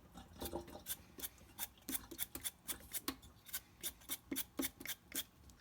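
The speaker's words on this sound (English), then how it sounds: "Okay, we're going to peel the potato first." Potatoes are peeled by hand with a peeler in a quiet kitchen, heard as a series of faint, crisp scraping strokes in a fairly regular rhythm, close up.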